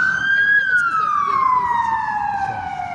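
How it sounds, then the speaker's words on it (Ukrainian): An ambulance siren wails loudly as it drives past on a city-centre street, its steady tone sliding lower as it moves away, continuous through the whole stretch. "Комусь стало погано, поїхала швидка допомога."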